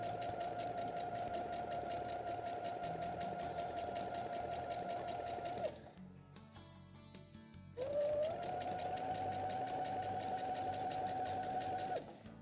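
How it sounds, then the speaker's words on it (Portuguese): A sewing machine stitches fabric in a steady, even whir, running for several seconds, pausing briefly with faint handling sounds, then resuming at the same pace, close and fairly quiet. "Então eu já vou lá, costuro bem fininho aqui."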